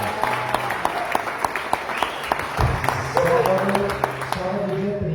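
A church congregation applauding during a Sunday worship service, many hands clapping in a dense, fairly loud burst with a few louder individual claps standing out, and voices murmuring beneath.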